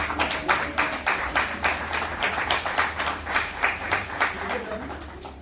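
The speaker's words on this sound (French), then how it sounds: "Applaudissez pour les témoins." Wedding guests clap together in a steady, rhythmic unison beat, roughly two claps per second, sustained and fairly loud, with voices mixed in.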